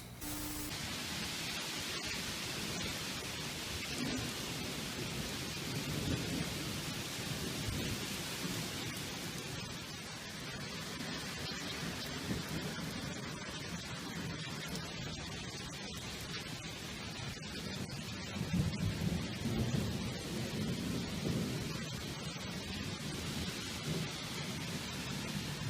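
Thunderstorm with heavy, tornado-producing rain: a dense, continuous roar of downpour fills the whole stretch, with low rumbling swells of thunder underneath and no voices.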